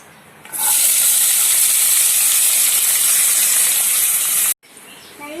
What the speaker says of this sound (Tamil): எண்ணெய் சூடாகி வெங்காயம் போட்டுடலாம்